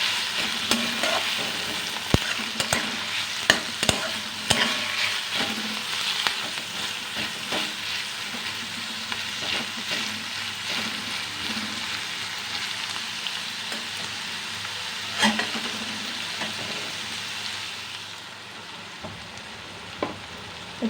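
Small cut potatoes fry in oil for a mourola fish curry, giving a continuous close sizzle with frequent clicks and scrapes of stirring that fade near the end.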